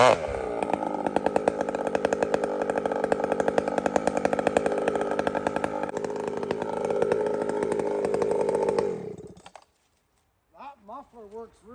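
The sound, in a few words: chainsaw running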